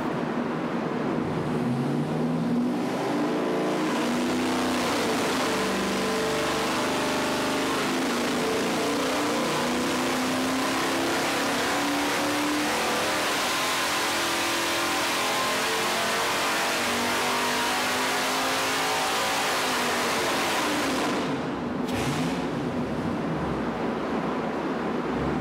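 A junkyard 5.3L L83 direct-injection V8 on nitrous during a power test, roaring loud and sustained under heavy load for about twenty seconds with shifting harmonic tones, then cutting off abruptly near the end.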